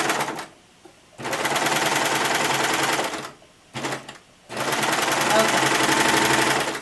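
A sewing machine stitches a French dart in two long rapid bursts of steady mechanical chatter, separated by short pauses and a brief start in between, close and clear.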